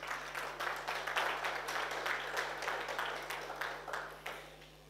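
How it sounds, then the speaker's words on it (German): Applause from a gathered congregation greeting guests, a fairly quiet, continuous spread of clapping hands that gradually tapers off, with a low steady hum beneath. "Und dieser Applaus ist für euch."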